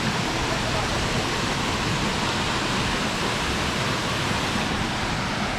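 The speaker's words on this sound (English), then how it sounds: "As soon as you walk up to the waterfall it gets really wet, and it also started raining now." Rain falls at Tes waterfall on Lombok, Indonesia, blending with the cascading water into a steady, loud, unbroken hiss and roar with no pauses.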